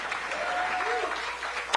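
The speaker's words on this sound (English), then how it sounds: "one more round of applause for Kinsale Drake with the spoken word and poetry piece" Crowd applause after a spoken word poetry piece at an artist showcase, moderate and continuous, with a voice and a brief tonal whistle-like sound partly over it.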